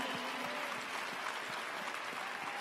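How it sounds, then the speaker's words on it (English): Steady, dense applause from a seated crowd honouring faculty at a university doctoral hooding ceremony, heard at a moderate distance without a break. "let's give them a round of applause of appreciation."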